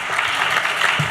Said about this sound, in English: Let's give another round of applause to all of our panelists today.